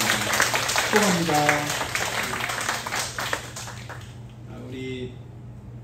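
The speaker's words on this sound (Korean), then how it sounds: "박수 한번 해주시면 감사하겠습니다." A church congregation applauding for a returning member, a steady wash of clapping that carries under a voice at a service, then fades out near the end.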